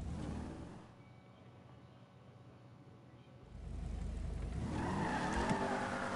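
A Mustang's engine in a video game hums low, drops briefly, then revs up loudly and holds a strong roar, with a hint of tire squeal near the end.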